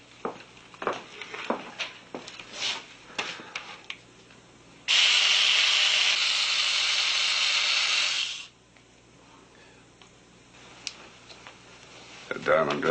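Diamond drill grinds steadily into a cylinder in a sealed lab for about four seconds, a harsh even whine that stops abruptly, with people talking before and after.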